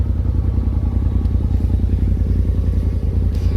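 A 2018 Polaris RZR Turbo fitted with an S&B particle filter intake runs with a loud, steady, close engine rumble that holds an even throb from start to end.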